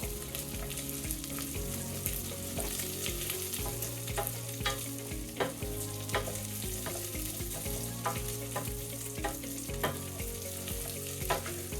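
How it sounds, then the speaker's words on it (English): Rice grains sizzle steadily in hot oil for Mexican rice while a spoon stirs them, the constant fizz broken by repeated scraping strokes through the pan; close and continuous, no talk. "Hear it sizzle. Then we want to stir it up."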